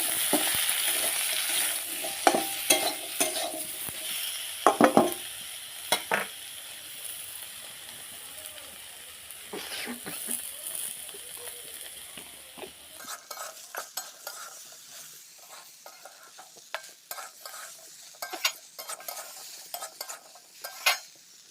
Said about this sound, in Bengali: দেখো আমার আলু বেগুন সিম ওলকপি সব ভাজা ভাজা হয়ে গেছে